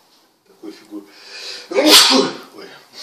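A single loud close sneeze bursts out after some quiet talk during a back massage session, followed by a short pause.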